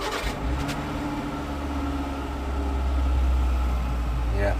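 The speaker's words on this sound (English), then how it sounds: "You want to feel how it starts? Let's hear the engine." Suzuki 1.2 car engine at a new-car dealership in Kampala, a steady low idle hum close by, rising slightly in level as it runs, with faint voices in the background.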